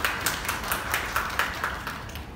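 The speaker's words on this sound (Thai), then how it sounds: "ขอเสียงปรบมือต้อนรับคุณรังสิยาประมุขนะครับ" An audience claps to welcome a speaker at a Thai highway design project orientation seminar. The claps come as a quick, regular series of sharp taps at moderate volume and gradually thin out.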